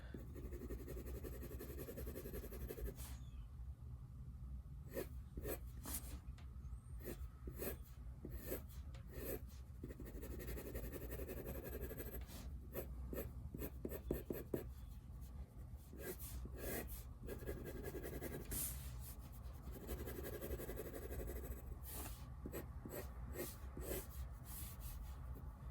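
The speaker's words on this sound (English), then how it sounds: "The other thing that's great about this pencil is that I can really start to shade now too." Pencil shading on paper while drawing comic art, a dry, continuous scratchy rubbing in short repeated bursts of strokes, close and steady, with no talking.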